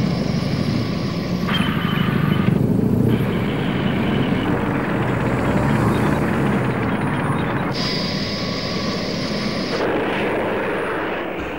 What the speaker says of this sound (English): Marine Corps CH-53s, carrying the new light armored vehicle and using in-flight refueling, can now insert armored assets